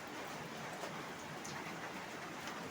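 Steady rain pours outside during heavy weather with flooding nearby, a dense, even hiss of falling water filling the scene at constant loudness with no voices.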